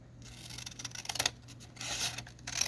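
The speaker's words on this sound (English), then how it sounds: "So I'm going to cut this piece in," Scissors snip through cardstock scraps for mini tags in a few short, crisp cuts, close and fairly quiet, with a light rustle of paper in between.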